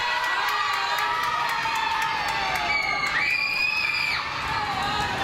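A crowd at a live wrestling show roars and cheers continuously, with shouts and whoops rising above a dense, steady wall of noise throughout.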